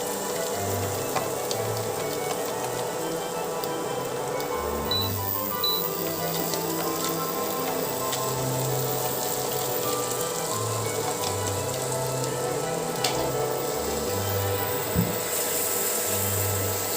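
Crushed ginger, garlic and onion fry for pav bhaji, a continuous soft crackling sizzle that holds steady for a long stretch, with a low intermittent hum underneath and no talking.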